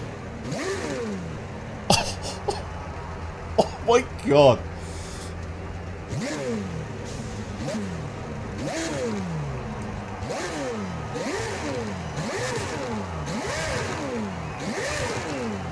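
A Pagani supercar engine in Forza Horizon 5 revs again and again, each loud pitch rising then dropping in a regular rhythm, with a few brief clicks and a short spoken exclamation near the start.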